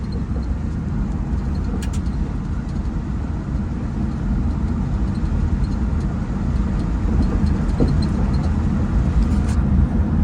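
A 1965 Ford Thunderbird driving, with a loud, steady engine and road rumble filling the whole stretch; the loose rattling brake calipers are not clearly separable from the continuous drone. No talk.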